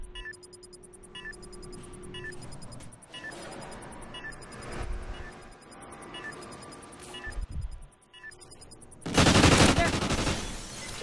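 Rapid gunfire and combat effects from a team-based shooter video game, with bursts of shots and clatter running throughout and a loud, dense blast of noise near the end.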